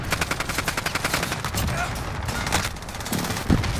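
Rapid automatic gunfire in a first-person multiplayer shooter game, dense bursts of shots rattling steadily throughout and near, with the player's voice faintly underneath.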